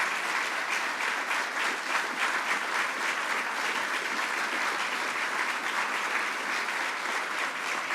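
A large audience applauds school principals and students at a mayor's State of the City address, a dense, steady wash of clapping that holds at an even level throughout with no voices standing out.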